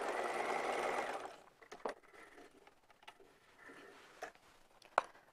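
Sewing machine stitching a Japanese knot bag, a steady hum of about a second that then stops, followed by faint clicks, taps and fabric handling, quiet and with no talk.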